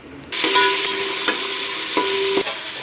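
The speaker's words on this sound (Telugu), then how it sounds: "ఈ ఉల్లిపాయని గోల్డెన్ బ్రౌన్ వేగనివ్వాలి." Onions fry golden brown in a hot pan, sizzling, with a few scraping stirs of a utensil breaking up the steady hiss.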